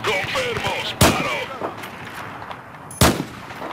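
Two sharp, loud gunshot blasts in Battlefield 4 gameplay, about two seconds apart, with someone talking beneath and between them and ringing game ambience around.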